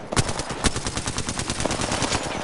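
Rapid bursts of automatic gunfire from an online shooter video game, a dense rattling volley of close, loud shots running throughout with a few sharper cracks standing out.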